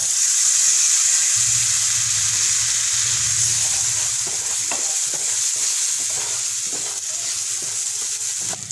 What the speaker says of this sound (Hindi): अब इसमें हम ड्राई फ्रूट्स ऐड करेंगे।